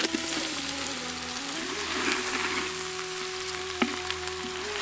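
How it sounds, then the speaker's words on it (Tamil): Cut tapioca pieces tossed into a pan of softened onions frying with salt give a steady, close sizzle and crackle, with a brief sharper clatter near the end and no talk. "இப்ப வெட்டி வச்சிருந்த குச்சி கிழங்க சேர்த்துக்கலாம்"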